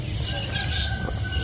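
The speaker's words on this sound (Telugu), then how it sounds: "కోడిపుంజులు" Roosters crow in a green farming village in the Konaseema region at morning, a loud close crow rising over a busy bed of other birds and countryside noise, with no voices.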